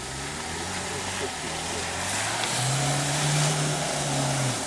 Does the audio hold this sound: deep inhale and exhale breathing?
no